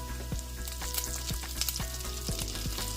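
Curry leaves sizzle and crackle in hot oil and butter, with sharp pops over a steady frying hiss, close and fairly loud.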